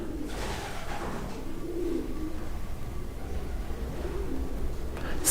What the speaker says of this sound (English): It's difficult with the pigeons because I know they're making a lot of noise up there.